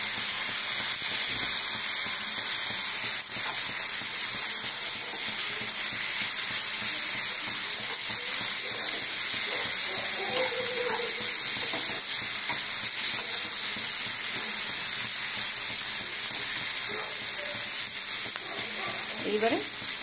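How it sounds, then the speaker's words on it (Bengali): Ginger and green chilli paste sizzles and fries in a pan while cooking kadai paneer, a steady close hiss running throughout with occasional stirring scrapes. "এইবারে আদা কাঁচা লঙ্কাটা দিয়ে একটু কষানো হয়ে যাবে"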